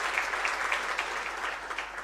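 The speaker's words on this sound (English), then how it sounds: "Let us give him a round of applause" An audience at a lecture gives a round of applause for the Premier of Gauteng, a dense continuous patter of many hands at moderate level, with a low steady hum underneath.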